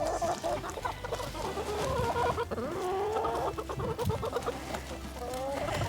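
Chickens clucking and squawking in a backyard chicken yard under fruiting currant bushes and mulberry trees, a steady overlapping chatter of several nearby hens with a rooster-like call, continuous throughout.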